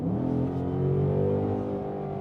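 A 2025 Ford Mustang GT engine revs up and holds at a steady high pitch, the harmonic drone rising slightly then settling, loud and close with no talking.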